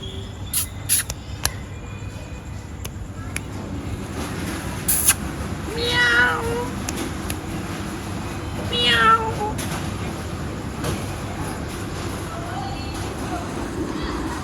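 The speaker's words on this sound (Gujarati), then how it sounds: "મસ્ત બિલાડી છે" A cat meows twice in clear, rising calls a few seconds apart, close by, over steady background hiss and faint insect chirping, with brief clicks and a little quiet noise around the calls.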